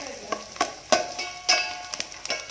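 Crushed garlic fries and sizzles in hot oil for a paper avalakki mixture, soft crackles and a few sharp pops with occasional stirring, close and fairly quiet with no talk.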